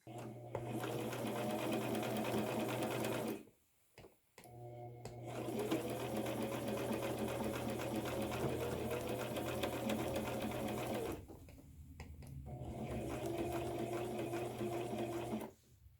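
A sewing machine hems the lining of a suede coat, running steadily at close range with two short pauses before it starts stitching again.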